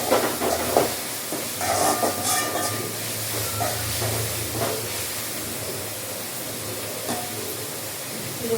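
Ginger garlic paste and chopped onion sauté in a hot pan, giving off a continuous sizzling hiss with occasional louder crackles and spits that gradually settle into a steadier, quieter fry.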